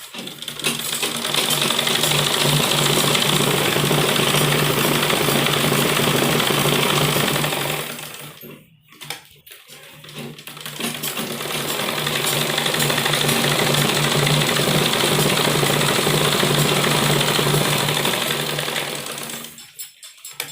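Sewing machine stitching seams on a churidar pajama, two long continuous runs of rapid buzzing with a brief pause between, loud and close.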